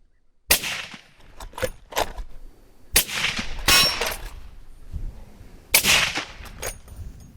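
Three loud sniper rifle shots crack out several seconds apart, each followed by a rolling echo and scattered smaller bangs in the distance.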